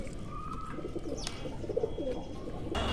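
Kuwaiti teddy pigeons in a loft making soft, faint cooing calls against a quiet, noisy background.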